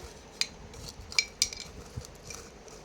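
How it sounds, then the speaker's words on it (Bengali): Chillies being stirred in oil in a pan for a capsicum and coriander leaf pickle: a few faint, sharp metallic clinks of a utensil against the pan amid a soft scraping hiss, close and quiet. "নেড়ে চেড়ে দিচ্ছি। সব লঙ্কাগুলি আস্তে আস্তে থেতো হয়ে যাচ্ছে।"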